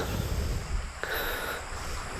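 Outdoor riverside ambience with flowing river water, a steady broadband rush with wind buffeting the microphone, continuous and moderately loud with no talking.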